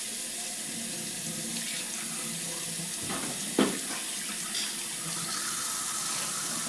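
A sink tap runs steadily as hands are rinsed, a continuous close splashing hiss with a brief sharper splash partway through.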